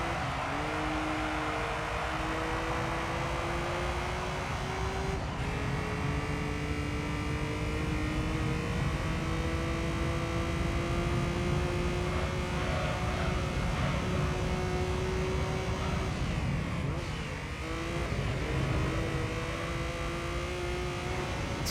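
A race car engine in Gran Turismo 3 holds a steady buzzing whine, rising in pitch through the gears with brief drops at each shift, loud and constant throughout.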